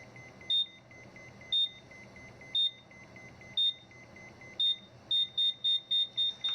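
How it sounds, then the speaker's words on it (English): A radiation detector gives a high electronic beep at steady one-second intervals, then speeds into rapid repeated beeps toward the end, fairly faint over a low hum. "But that's enough beeping."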